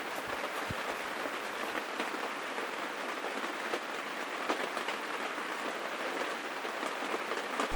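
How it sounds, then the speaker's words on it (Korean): Heavy rain pounds steadily on a one-touch pop-up tent at a campsite during a storm, a dense continuous patter with scattered sharper drops close by. "우와, 이거 비 많이 온다."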